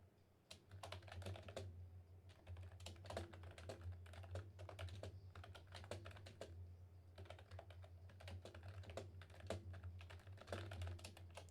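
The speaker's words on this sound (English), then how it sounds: "I'm typing a message really quick" Quick bursts of computer keyboard typing while a message is written, close and clear, with irregular clusters of keystrokes separated by short pauses over a low steady hum.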